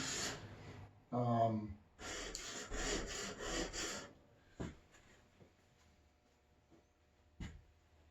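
A skew paring chisel is freehand-sharpened on a sharpening plate, with a few back-and-forth rasping strokes mixed with a man's speech, then quiet with only a couple of faint taps.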